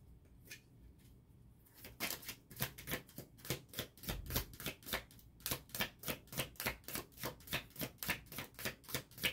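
A deck of Osho Zen Tarot cards is shuffled close up in a quiet room, a fast run of crisp riffling clicks followed by a steady rhythmic series of card snaps, with no talking.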